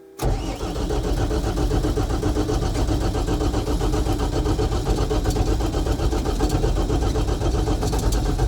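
A vehicle engine on a farm cranks briefly and catches, then runs steadily and loudly at a rough, even idle for several seconds close by, with no talking.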